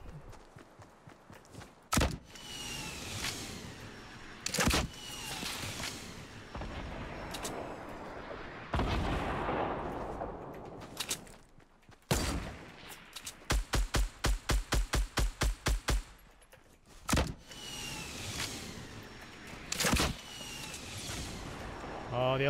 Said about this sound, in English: He got hit by one of the rockets.